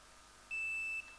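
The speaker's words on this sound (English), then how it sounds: "very quick there on the buzzer, Mangesh." A single sharp electronic quiz buzzer tone sounds for about half a second against quiet room background at a campus quiz final.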